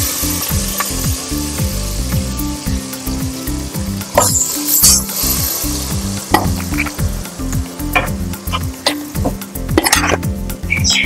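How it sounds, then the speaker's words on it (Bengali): Chicken pieces frying in butter with bay leaf and whole spices, giving a loud continuous sizzle with rhythmic scraping and stirring clatter of a utensil against the pot throughout. "আস্তে আস্তে চিকেন গুলো আমি দিয়ে দেবো।"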